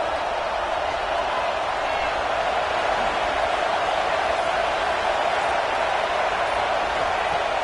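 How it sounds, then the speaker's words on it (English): A football stadium crowd roaring for the defense during a red zone stand, a dense, sustained wall of distant cheering and noise that holds steady without letting up. "This crowd is trying to inspire this defense to make a big red zone stop."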